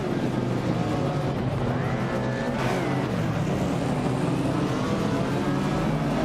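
Race cars in a video game race drone steadily at close range, a continuous engine roar with a brief revving swell in the middle, loud and unbroken throughout.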